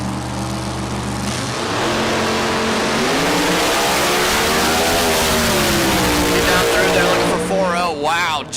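A small-tire drag racing car in a Big Dog 4.0 index class launches down the track, a loud sustained engine roar rising in pitch as it pulls away, with an announcer talking over it.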